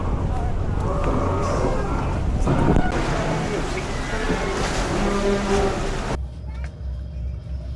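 A heavy rushing roar of waves and wind fills the recording, loud and close, with voices talking over it before it abruptly quiets near the end.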